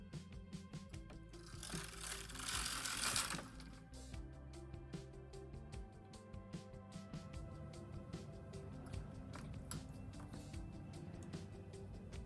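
A Knitmaster Mod 100 knitting machine works a row of a Fair Isle pattern, its carriage producing a faint, rapid mechanical ratcheting and clicking that runs continuously with a brief swell of hiss early on.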